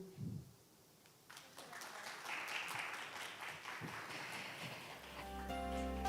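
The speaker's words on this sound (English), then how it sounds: "Please, a round of applause again." An audience applauds after a presentation at an indoor event, a soft, fairly distant patter of clapping that swells and continues for several seconds, with faint murmuring.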